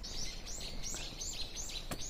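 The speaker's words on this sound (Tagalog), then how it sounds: "Oh, ang ganda ng mga tinig ng ibon." Birds sing at a Kyoto shrine, Iwashimizu Hachimangu, with repeated bright chirping and warbling calls in short rhythmic phrases, fairly faint over a soft outdoor background.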